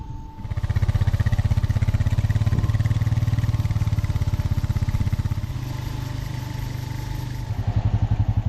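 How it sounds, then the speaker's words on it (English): Effluent pumps beside a farm effluent pond start up and run, a loud rhythmic engine-like thumping that rises quickly after a brief lull and keeps a steady pulsing drone, dipping slightly before surging again. "The other effluent pumps just started up, both green lights are on."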